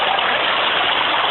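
Water gushes from a water box burst out of concrete during a Chicago flood in 2013, a loud, dense, unbroken rushing roar heard close up with no voices.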